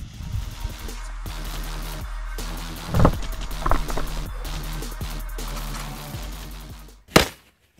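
A steady mechanical drone runs along until a single sharp, loud firecracker blast bursts near the end, exploding a watermelon in water, followed by quiet.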